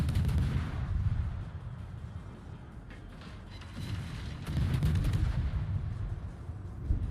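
Naval guns fire in World of Warships, a Tier 8 Pan Asian destroyer battle, heard as a steady run of booming shots over low rumble, swelling louder near the start and again in the second half.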